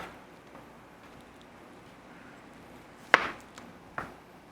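A knife chopping beets on a cutting board in a home kitchen, two sharp isolated chops near the end over a quiet background.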